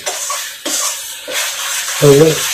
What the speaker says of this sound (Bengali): এইভাবে হালকা হাতে নাড়তে থাকবেন